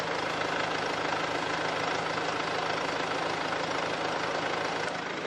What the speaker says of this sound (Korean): 바로 이제 엔진 소리 한번 들려드릴게요.